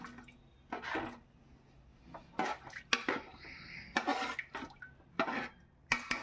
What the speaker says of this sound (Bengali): দেখুন আমি 8 কাপ গরম জল অ্যাড করে দিলাম, দিয়ে এবার ভালো করে একটু নাড়িয়ে চাড়িয়ে নিচ্ছি।